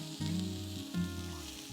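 Chopped garlic and sliced onion sizzling in hot oil on a tawa for tawa-style veg hakka noodles, a steady close frying hiss with a couple of brief stirring bumps.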